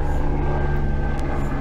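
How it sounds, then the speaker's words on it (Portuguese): A helicopter passes overhead as a steady, continuous rotor and engine drone, loud and unbroken throughout, with no talking. "Tá passando um helicóptero aqui, eu acho que você deve estar escutando"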